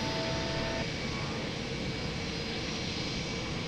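Jet engine of a simulated fighter aircraft idling steadily before takeoff in the Lock On flight simulator game, a loud continuous broadband roar with a faint whine, no talk over it.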